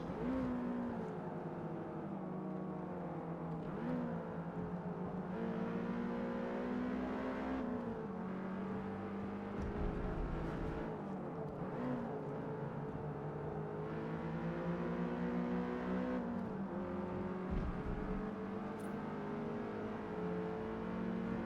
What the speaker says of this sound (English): And out flies the car from the pits.